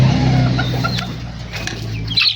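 A kabir chicken clucks in short, close bursts among farm fowl, over a low steady background hum.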